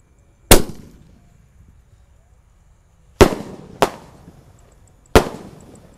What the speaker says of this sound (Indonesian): Sudah menyala, triple boom 3 tor Basoka Roman candle, let's go.